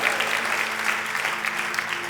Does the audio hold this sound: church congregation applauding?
yes